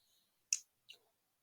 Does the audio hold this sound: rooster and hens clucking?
no